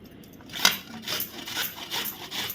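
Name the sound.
grating Indian gooseberries (amla) on a grater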